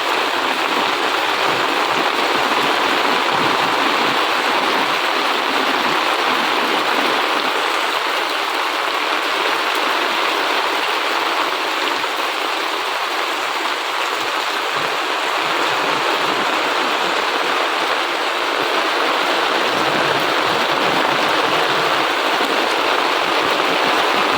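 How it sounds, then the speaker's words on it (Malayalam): Steady, heavy rain hisses continuously without pause, a dense wash of falling water close by with no voices. "ഇന്നിപ്പോൾ മഴ പെയ്യുന്നുണ്ട്"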